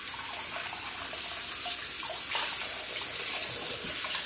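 Tap water runs steadily into a sink during face washing, a constant close splashing hiss with occasional small splashes and no talking.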